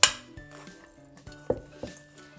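Metal fork clinking against a bowl while pressing butter into flour for an apple pie crumble topping, a few sharp chinks with ringing tones spaced irregularly, close and clear with no talk.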